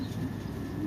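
A pigeon coos softly and briefly inside a racing-pigeon loft, faint against a low hum of room noise.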